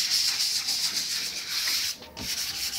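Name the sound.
wet sanding with sandpaper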